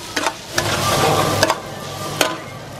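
A street vendor in Cambodia stirs food in a large pan over open flames, a loud close sizzle with a few quick scraping and clattering strokes of a utensil, no voices.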